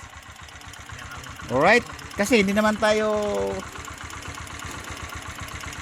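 A Honda motorcycle engine idles with a steady, rapid putter throughout, while someone speaks over it in the middle.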